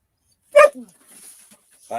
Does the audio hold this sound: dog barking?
yes